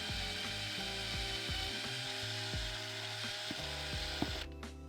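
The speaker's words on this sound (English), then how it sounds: "We're gonna put our step bit right into the hole, and I'm gonna go slow." A drill fitted with a step bit bores slowly through an Airstream AC vent panel, grinding in repeated stepped pulses as each cutting stage bites, then winding down abruptly near the end; no talk.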